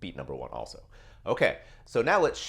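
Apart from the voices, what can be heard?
None of the usual background noises is heard.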